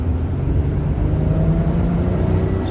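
A 1991 Oldsmobile Cutlass Supreme convertible on the move, heard from the cabin as a steady, close, low engine and road rumble with no voices.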